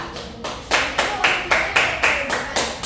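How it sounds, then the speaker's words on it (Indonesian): A classroom applauds a student group after their presentation with steady, evenly spaced claps, about four per second, close and moderately loud throughout. "Tepuk tangannya dulu buat kelompok 2 ya"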